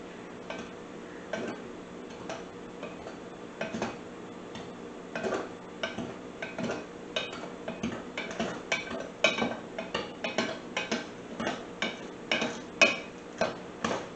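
Two knives cut butter into soda bread dough in a bowl, giving a long series of light, irregular metallic ticks and scrapes that grow busier and louder toward the end, close by with no talk.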